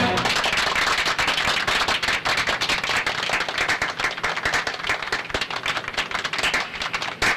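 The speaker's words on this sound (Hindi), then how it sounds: "मिनिस्टर जी की ताली बजाने के अंदाज से लगता है कि वो खुश नहीं है" A minister in a Hindi-dubbed South Indian film claps his hands in dense, continuous sharp bursts that fill the scene, loud and close, like a steady patter with no talk over it.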